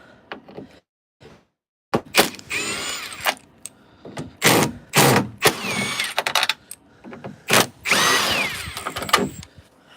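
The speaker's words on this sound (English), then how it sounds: "Let me take these screws back out." A power drill runs in short, loud bursts with quiet gaps between, backing screws out of a door on a 1998-2003 Dodge Durango during a door lock actuator replacement.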